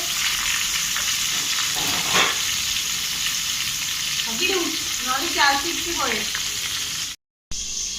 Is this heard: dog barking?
no